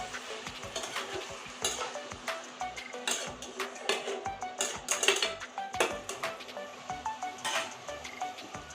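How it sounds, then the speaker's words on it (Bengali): Bottle gourd and fish heads sautéing in a pan for a Bengali ghonto, with soft sizzling under repeated scraping and clinking of a spatula against metal, irregular stirring strokes close by. "মাছের মাথা দিয়ে আরও কিছুক্ষণ আমি কষিয়ে নেব লাউটা"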